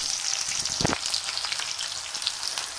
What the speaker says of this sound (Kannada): ಈಗ ಬೆಳ್ಳುಳ್ಳಿ ಮಾತ್ರ ಚೆನ್ನಾಗಿ ಫ್ರೈ ಮಾಡೋಣ